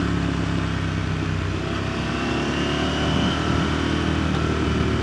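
A KTM 890 Adventure motorcycle rides along a twisty road between Girvan and Newton Stewart on Mitas Enduro Trail+ tyres, its engine droning loud and steady with rising revs and heavy wind noise, close throughout.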